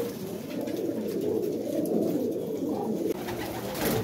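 A young male pigeon, a single-coloured bird, coos in a low, continuous warbling murmur close to the microphone, soft and unbroken for a few seconds.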